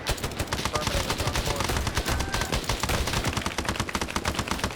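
Sustained machine gun fire in a military video game, a dense and continuous rattle of rapid shots at high volume with no pauses, all the way through.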